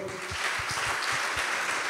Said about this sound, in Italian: Chiedo un grande applauso per loro